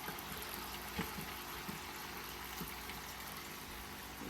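Potatoes frying in a pan for an old-fashioned corned beef and potatoes dish give a steady, dense sizzle, with a few soft knocks and clicks over the hiss.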